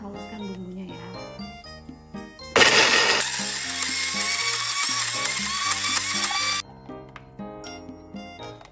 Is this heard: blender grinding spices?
yes